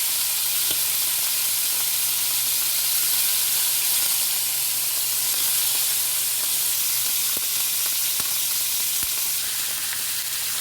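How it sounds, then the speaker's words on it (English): Beef tenderloin sears in a hot iron skillet with a steady, close sizzle and hiss that runs unbroken throughout. A few faint clicks sound from the pan. "We're just searing this tenderloin on all four sides."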